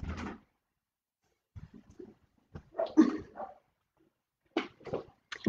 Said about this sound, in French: ils sont en train d'aboyer dans le jardin